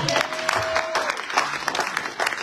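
A church congregation claps and cheers in acclaim of the Lord, with dense, lively applause filling the room and a voice calling out over it.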